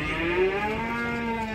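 A male calf, one of a group of year-and-a-half-old bull calves from Taldykorgan, lets out a single sustained moo, close and clear with no talking.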